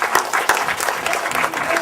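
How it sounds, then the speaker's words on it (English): A live audience at a panel on YouTube and online media claps in a round of applause, dense and steady for a couple of seconds with a few sharper claps standing out near the start. "let's give them a round of applause."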